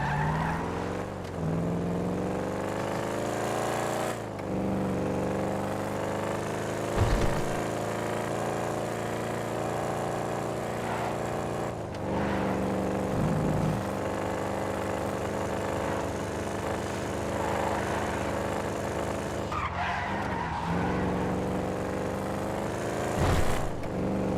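A custom sports car bought from a dealer drives in a video game, its engine droning steadily with rising and falling revs and gear shifts, plus occasional brief tire squeals, alone without talk.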